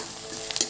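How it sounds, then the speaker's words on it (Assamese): Onions with ground ginger and garlic paste fry in a pan, a close steady sizzle with a few stirring scrapes near the end. "পিঁয়াজখিনি অকণমান ভাজি লৈয়ে মই দি দিম আদা নহৰু যিখিনি বটি লৈছিলোঁ সেইখিনি"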